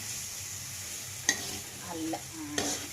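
Green chillies, ten to twelve of them, fry in a pan of oil, with a steady soft sizzle broken by a few short stirring scrapes and clicks.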